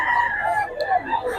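A rooster crows loudly and close, a drawn-out call with a clucking edge amid a busy crowd.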